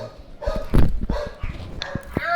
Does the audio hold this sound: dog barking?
yes